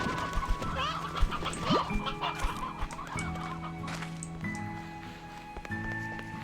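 Chickens cluck repeatedly in the Slime Rancher 2 video game, steady game-farm fowl calls layered over a background music bed, with brief talk in places.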